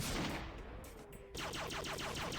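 Weapon fire in a modded Terraria game, with a burst of fast shots, a short lull, then a rapid string of repeated bursts, close and fairly quiet.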